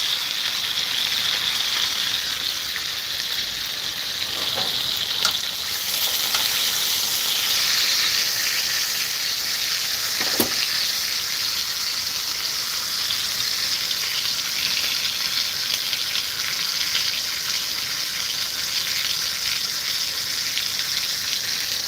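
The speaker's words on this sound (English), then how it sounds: "Listen to that sizzle." Loud, continuous sizzling of steak frying in a hot pan, a steady crackling hiss with occasional sharper pops and no talking.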